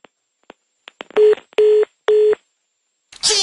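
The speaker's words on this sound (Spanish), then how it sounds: "vamos a marcar al teléfono de la sobrina" A telephone keypad dials out: soft button clicks, then three clear, evenly spaced touch-tone beeps, close and loud, followed by a brief burst of voice at the end.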